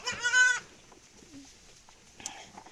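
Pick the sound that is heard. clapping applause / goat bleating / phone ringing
goat bleating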